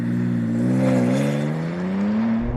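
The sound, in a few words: BMW M4 launch-control acceleration, engine revving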